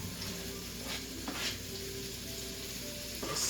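Onions and celery sizzle and fry in a pan, a steady low hiss with a couple of brief stirring scrapes, quiet and close with no talking.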